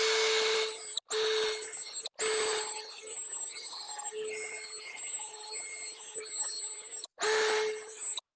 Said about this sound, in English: I like to take just a cheap drill and a little brass brush head.